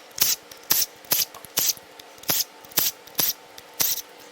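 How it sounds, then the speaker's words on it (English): A ratchet spins bolts out of a Powerstroke diesel engine during teardown, ten quick metallic zipping bursts in a steady rhythm with short pauses between, close and clear. "Start zipping some bolts out."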